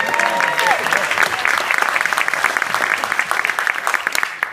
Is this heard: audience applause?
yes